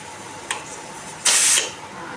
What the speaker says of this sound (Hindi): ये देखिए अब सीटी ही नहीं लग रही है, भाप निकल रही है।